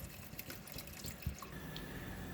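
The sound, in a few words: pouring water into pot with soap bars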